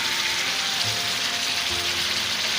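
Chicken and okra frying in a pan, a steady, close hiss and crackle of hot oil that holds constant throughout with faint low bumps beneath, and no talking.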